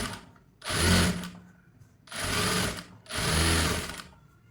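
A sewing machine top-stitches a blouse in three separate runs, each a loud, close, rapid whirring rattle lasting about a second, with quiet pauses between.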